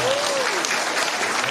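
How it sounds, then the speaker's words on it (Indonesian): An audience bursts into brief, loud, dense applause at a live stage show, with a voice rising over the clapping. "Tepuk tangan."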